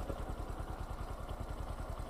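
A motorcycle engine idles steadily close by after a self-start, with a low, even thumping pulse and no gear clunk clearly standing out.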